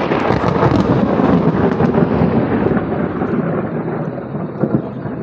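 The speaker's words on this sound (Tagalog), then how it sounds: "Lakas ng kidlat." Loud thunder rumbling during a storm at a river campsite, a heavy continuous roar that slowly fades with rain noise underneath.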